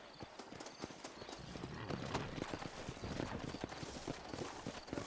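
Horse hooves clip-clop steadily in the Red Dead Redemption video game, several horses moving over a dusty frontier town street, a dense, continuous patter of hoofbeats at moderate level with no talking.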